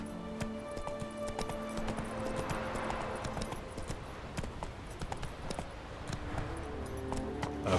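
Horse hooves clip-clop steadily along a winding path in The Witcher 3, with a game soundtrack and ambient effects running underneath throughout.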